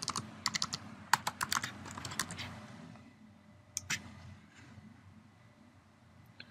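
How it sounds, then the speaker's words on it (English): Keys clatter on a computer keyboard as a search keyword is typed, quick bursts of clicks in the first two seconds, then a pause and a couple of isolated taps, close and fairly quiet. "I'm going to type in the keyword of coffee shops"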